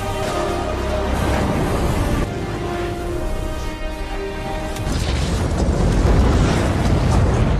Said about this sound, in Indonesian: tapi karena paksaan dari Mike, dia pun menekannya dan gedung itu pun meledak